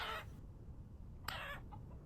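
A couple of short chicken clucks in the video game Vintage Story, with a brief pause between them and a low steady background hum beneath.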